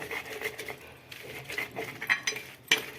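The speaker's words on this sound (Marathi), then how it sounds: "हे बघा किती मस्त रगडतंय" Green chillies with garlic and plenty of oil are crushed on a flat griddle to make thecha. A metal utensil scrapes and clinks against the surface in soft, uneven strokes, with a few sharper taps near the end.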